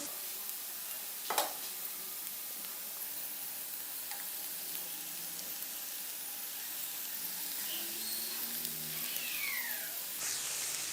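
Noodles sizzle and fry with vegetables in a pan as a steady hiss. A sharp clatter comes early, then softer scraping and mixing noises follow. No one speaks.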